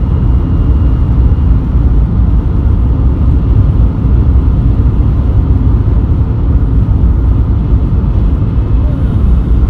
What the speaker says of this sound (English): to get over the noise of the interior of the car